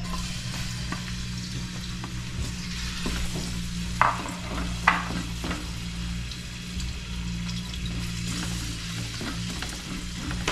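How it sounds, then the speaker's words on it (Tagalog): Garlic and onion sautéing in hot oil give a steady close sizzle and frying crackle, with two sharper clatters of stirring midway and no talk. "Painitin muna natin yung mantika para magisa natin yung bawang at sibuyas."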